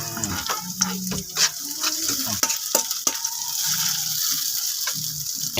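Garlic and onion frying in a pan, a bright crackling sizzle with stirring scrapes and clatter near the start, then a steadier hiss as the pieces cook; a voice speaks briefly.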